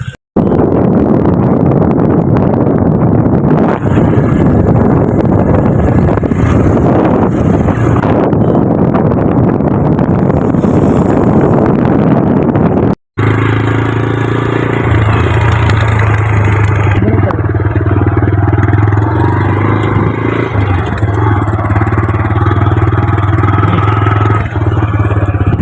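A motorbike rides along an open road in cool wind, its engine droning steadily under heavy wind buffeting on the microphone, continuous and loud apart from one momentary cut partway through.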